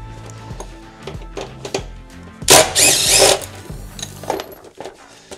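A cordless impact driver whirs in a loud burst of about a second while setting plus nuts for a Weather Guard 5-gallon bucket holder, surrounded by softer clicks and handling noises.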